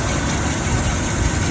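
A 1983 Jeep CJ7 engine idles after a short drive, a loud, steady low rumble with constant vibration and no speech.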